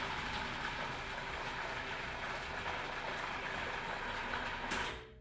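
A blender blending cheese and condensed milk gives a loud, continuous motor roar with dense grinding noise that runs steadily, then cuts off near the end.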